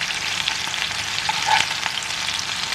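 Fish cakes fry in a pan of butter while a spoon bastes them, a loud continuous sizzle joined by a brief metallic scrape of the spoon near the middle, with no talking.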